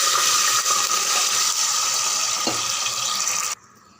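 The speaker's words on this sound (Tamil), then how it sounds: "நான் இப்போது 2 டம்ளர் தண்ணி விட்டுருக்கேன்" Two tumblers of water pour steadily into a pot for coconut milk rice, a continuous rushing splash that stops abruptly near the end, leaving a quiet hum.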